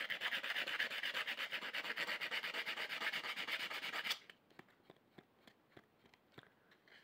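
Rust is scrubbed off painted metal with fast, rhythmic rasping strokes that sound loud and close for about four seconds, then give way to a few quieter, scattered scrapes.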